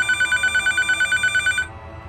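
A telephone rings with rapid, steady electronic trills, close and loud, during a 911 emergency call, then stops abruptly.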